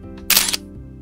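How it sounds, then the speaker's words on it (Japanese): A camera shutter fires for a long daytime exposure through stacked square filters. A soft click comes first, then a loud mechanical snap and whir lasting about a quarter second, over a quiet background. "はい、今シャッターが切れました。"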